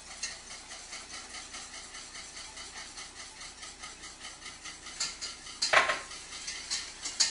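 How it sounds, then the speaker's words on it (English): A whisk clinks rhythmically against a pot of boiling sauce thickened with cornstarch over a soft bubbling simmer, the scraping growing a little louder near the end. "make sure that you whisk the cornstarch into the sauce as it's boiling"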